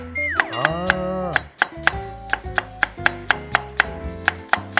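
Sharp knife chops slice zucchini on a board in a quick, even rhythm, a dozen or so cuts, while a voice talks over the first part.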